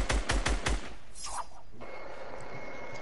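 A tactical SMG fires in a video game as a quick burst of about five sharp, loud shots, then leaves a quieter mechanical tail and faint hum.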